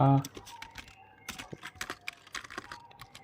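Rapid, irregular clatter of keys on a computer keyboard as a Linux shell command is entered, close and fairly clear with a faint background hum.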